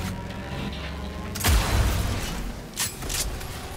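Gunfire striking the battery on an enemy's back in the video game Cyberpunk 2077, a sudden heavy boom followed by a rumbling mechanical burst and a second sharp impact, loud and close with no talking.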